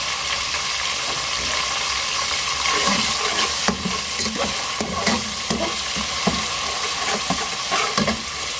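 Potatoes for aloo tahari fry in a pot under a constant loud sizzle, with repeated scraping and clacking stirring strokes close by and no voices.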